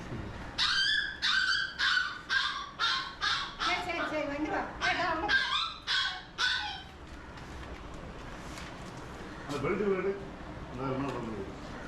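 A hunting dog whimpers and yips in a rapid series of high, close, strained cries, then falls quieter while people talk over light background noise, with a few more faint whines near the end.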